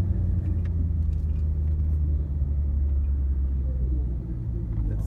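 A Lexus IS F at a drag strip gives a deep, continuous engine rumble that stays steady and close. The rumble eases slightly near the end.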